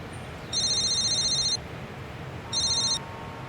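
A mobile phone rings in two bursts of bright electronic tones, a long ring and then a shorter one, clear and close against a quiet indoor room with no talking.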